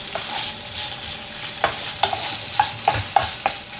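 Liver fries in a pan while being stirred, a busy sizzle with a quick run of sharp spoon scrapes and taps in the second half, close and clear with no talking.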